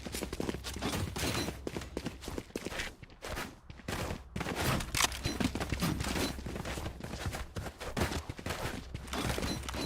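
Gunfire in Valorant during a professional DreamHackers Ace Series lower-bracket final, rifles firing in dense, nearly continuous rattling bursts that fill the whole stretch at a steady, fairly loud level.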